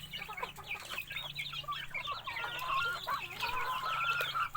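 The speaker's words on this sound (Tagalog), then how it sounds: "malalaking lahi na manok" Several large native chickens cluck and chatter continuously at moderate distance, overlapping soft calls and squawks over a steady low background hum.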